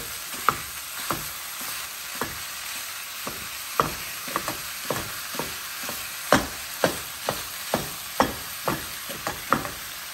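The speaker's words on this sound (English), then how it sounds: "Take our hamburger meat, start chopping it up." Repeated sharp taps and scrapes of a utensil chopping up ground beef as it browns in a pan, irregular but steady, over a continuous frying sizzle, close and clear.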